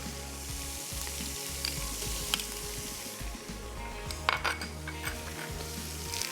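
Green chili paste and fresh curry leaves sizzle in hot oil for an arvi gosht curry, a steady close frying hiss with a sharp burst of spattering crackles near the middle and faint clinks of a spoon.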